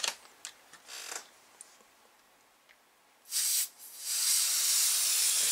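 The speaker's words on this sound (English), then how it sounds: "I'll spray it into here." Aerosol lubricant is sprayed into the motor of an Atari 1050 disk drive during repair: a few short hissing spurts, then a longer sustained close hiss near the end, with faint ticks in between.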